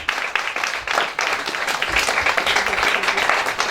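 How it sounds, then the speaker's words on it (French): A conference audience at a women's entrepreneurship and leadership event applauds, dense sustained clapping from many hands filling the room at close range without a break. "Les applaudissements, c'est pour vous."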